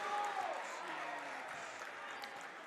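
Crowd at a boys' varsity high school basketball game between St. Croix Falls and Cameron, reacting to a foul call with a sustained wash of murmuring and shouting from the stands, with a voice heard speaking over it.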